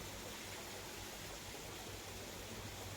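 A natural waterfall rushes in a constant broadband roar, steady and unbroken throughout, with no voices.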